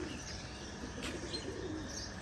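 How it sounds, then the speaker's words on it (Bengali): Pigeons at a loft, newly let out, give soft intermittent cooing and faint chirps over a quiet, steady background. "তো দেখেন, আমাদের কবুতরগুলো ছাড়া হয়ে গেছে আলহামদুলিল্লাহ।"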